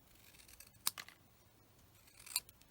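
Scissors cut through card for a handmade Halloween card, two quiet crisp snips with soft rustling between them in an otherwise hushed room.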